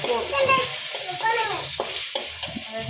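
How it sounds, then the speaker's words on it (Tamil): Ginger, garlic and tomato sizzling and frying in a pan while being stirred, with steady close sputtering and a few spoon scrapes, no talk. "இப்போது இந்த இஞ்சி பூண்டு கொஞ்சம் பச்சை வாசனை போகிற அளவுக்கு லைட்டாக வதக்கி விட்டுக்கோங்க"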